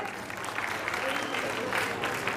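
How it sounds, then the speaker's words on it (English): Crowd at a prize distribution and closing ceremony claps steadily in a continuous wash of many hands, with voices talking over the applause. "Can we have a round of applause for them?"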